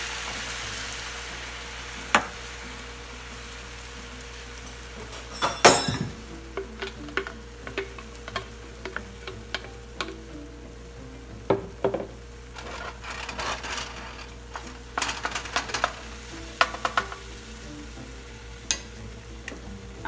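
A blended spinach and egg mixture sizzles in a frying pan over steady low hiss, with scattered scraping and clacking as it is stirred, fairly close and without talk.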